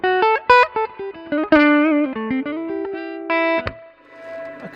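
Dry, clean electric guitar through an Origin Effects RevivalDRIVE pedal in its unprocessed setting: picked single notes and short chords ringing out alone, a phrase of separate plucks with clear sustain and a final note left to decay.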